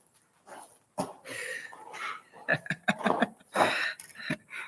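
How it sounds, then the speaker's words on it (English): Indoors in a hot room, a dog gives short whimpers and huffing, cough-like snorts. The bursts come close together and irregularly, with quiet gaps between them. "This dog doesn't want to leave"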